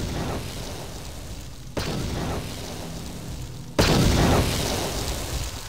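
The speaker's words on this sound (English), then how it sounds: "Those explosions don't look very massive" Three deep booming explosions in Star Wars: Knights of the Old Republic, each a sudden blast followed by a long rumbling decay, the last one loudest and closest.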